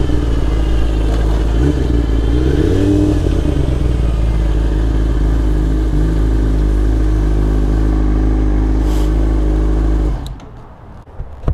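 A Yamaha R6 sport motorcycle with GT shift roars steadily while being ridden, a loud, close engine drone with one brief rise in pitch, then drops away sharply near the end.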